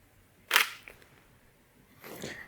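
A camera shutter fires on a single photo taken at 1/200 second and f/8, a sharp close mechanical snap followed by a faint click, then a softer second mechanical whir-click a moment later.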